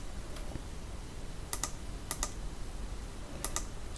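Typing on a computer keyboard while working in an Excel sheet, several quick clusters of crisp key clicks over a soft steady background, no voices.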